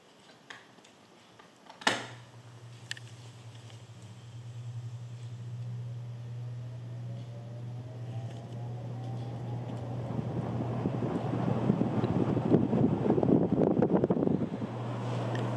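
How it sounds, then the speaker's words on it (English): A ceiling fan motor, recorded close up, starts on high speed: a steady low hum builds with rising broadband whoosh and rumble, after a sharp click near the start. "I'm going to have the camera close to the motor because it makes a really cool startup sound"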